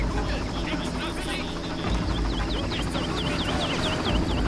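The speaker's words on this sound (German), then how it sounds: "Der Hubschrauber auch noch." Helicopter in the Far Cry video game, a continuous rotor and engine drone mixed with game sounds and repeated chirping effects, with someone talking over it.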